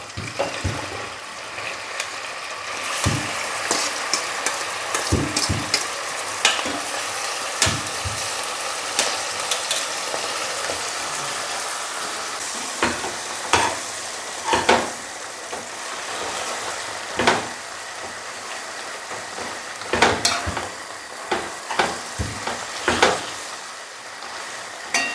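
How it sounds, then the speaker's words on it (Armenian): Chopped greens and dill frying in melted oil in a pan, making a continuous sizzle with frequent sharp crackles and bursts of spattering, heard close and alone over a long stretch. "այստեղ ես յուղ լցրեցի, որ բանջարը տապակեմ, շեփը տապակեմ"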